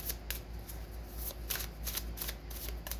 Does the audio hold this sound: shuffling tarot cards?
yes